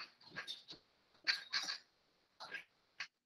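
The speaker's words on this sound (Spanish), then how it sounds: "ese es el perro mío tomando agua" Rapid, wet lapping bursts from a dog drinking nearby, coming in quick clusters with short pauses between them.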